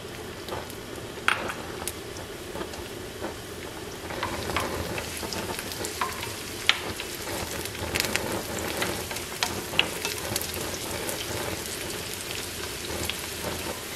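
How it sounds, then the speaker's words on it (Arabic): Onions sizzling and frying in a little oil in a pan while making habbia, a cooked barley dish, with a steady crackling hiss and occasional stirring clinks close by throughout. "هنا عندي مقلاة، راح أضيف قليل من الزيت وراح أحمس البصل"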